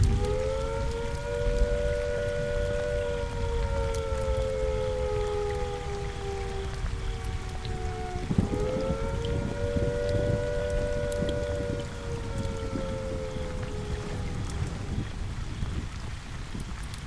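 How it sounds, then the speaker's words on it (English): A civil defence attack warning siren from the game Fallout 4 wails with a steady rising and falling tone, loud and continuous, dipping briefly midway before climbing again, with a rain-like hiss underneath and no talking. "If an attack is expected, the sirens will sound a rising and falling note like this."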